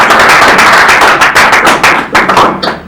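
Loud, close clapping from an audience at a church-style launch event, a dense run of sharp hand claps that thins into a few distinct claps near the end.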